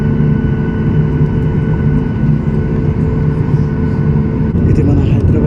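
A passenger airplane's engines drone loud and steady from inside the cabin during a flight over Hyderabad, a constant low rumble with humming tones that hardly varies throughout.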